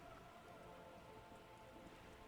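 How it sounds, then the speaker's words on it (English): Steady rain falling on wooden boards and open water in the game Disco Elysium, a soft, even patter of drops that runs faint and continuous with no voices. "All around you, rain keeps falling down."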